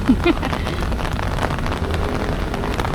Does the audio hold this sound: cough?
no